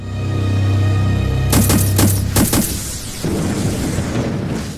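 Cartoonish burst of explosions in an animated film as explosive butterfly scales ignite across a battlefield, a rapid cluster of loud booms after a droning tone, trailing into a long rumbling crackle.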